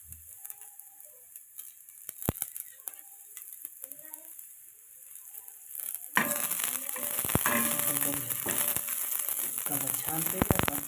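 Food being sautéed in a pan for an omelette, a soft hiss and stirring that swells louder and denser in the second half, with talk heard over the first part.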